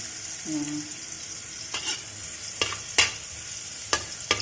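Salted fish frying in a pan until golden brown, a constant soft sizzle broken by several sharp clanks of a spatula stirring and scraping, close up with no talking.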